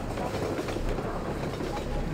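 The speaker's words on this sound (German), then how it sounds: "Vorsicht, Zug." A train rumbles past in the video game Half-Life 2, a steady, loud rolling clatter with low mechanical rumble filling the short stretch, faint voice sounds mixed in.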